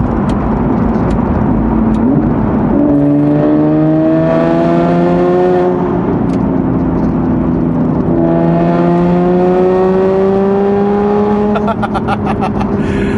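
An Aston Martin engine revs hard through downshifts, with rising and falling harmonic whines in repeated loud surges and brief blips between.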